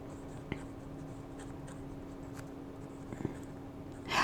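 Fine-nib fountain pen scratching across paper, a faint, steady close-up sound with a couple of brief taps and a louder rustle at the end.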